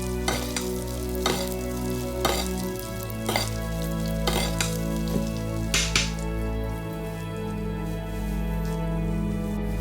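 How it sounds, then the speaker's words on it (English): Foaming butter bubbles and sizzles in a pan as it is spooned over a veal neck, a steady frying hiss broken by several sharp clinks of the spoon against the pan. "Look at that foaming butter coming over the meat."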